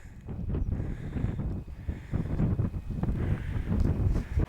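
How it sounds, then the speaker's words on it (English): Breezy wind at the top of Digley Reservoir on a summer day: steady buffeting gusts rumbling against the microphone, continuous and close, with no talk. "just a bit breezy up here"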